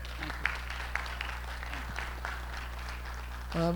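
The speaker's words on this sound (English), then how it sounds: "A round of applause for Patrick." Audience applause for a speaker after a talk at a presentation, a soft, thin patter of clapping over a low steady hum, with a brief voice near the end.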